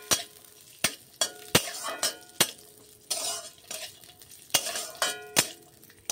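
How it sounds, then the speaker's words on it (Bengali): Cashews and raisins fry in a little ghee over low heat, with a soft steady sizzle broken by sharp, regular clinks of a spoon scraping and stirring against the pan. "কাজু আর কিশমিশটা আমি ভেজে নেব। একটু ঘির সঙ্গে নাড়িয়ে নিলে খেতে কিন্তু অসম্ভব সুন্দর লাগে। আমি একটু ঘির সঙ্গে নাড়িয়ে নিচ্ছি।"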